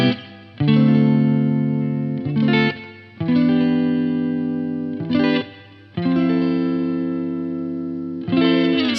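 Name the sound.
Fender Telecaster neck pickup, clean tone with reverb through Blackstar amp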